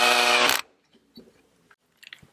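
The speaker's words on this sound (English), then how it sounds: "They're plastic, so the plastic casing, you don't really need to drill them down really hard." A power screwdriver on a low torque setting drives a screw into the plastic casing of a Gene Cafe CBR-101 coffee roaster's heater assembly: a loud half-second whir, then near silence with a few faint clicks and handling sounds.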